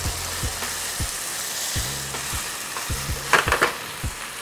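Pre-cooked potatoes being folded into sizzling beef empanada filling in a pan, a steady frying hiss under repeated soft scraping stirs and a few brief clattering knocks near the end, close by without talk.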